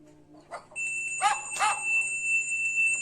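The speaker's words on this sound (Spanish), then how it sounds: "con solo escuchar el sonido de la campana" A bell rings clearly with two strong strikes whose tones linger and sustain, preceded by a faint brief sound.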